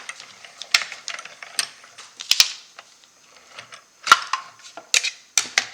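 A small hand-cranked paper strip machine feeds paper through, giving close, irregular mechanical clicks and ratcheting ticks in scattered bursts against a quiet background.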